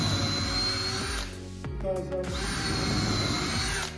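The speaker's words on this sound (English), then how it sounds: "You can use it for drilling into timber." A Makita combi drill runs into timber in steady loud whirring bursts. The motor winds down briefly in the middle, then spins up again, and a short spoken phrase is heard during the pause.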